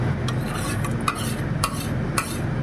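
A spoon stirs salted food in a pot on the stove, with a few sharp scrapes and clinks against the metal over a low, steady background, close up and without speech.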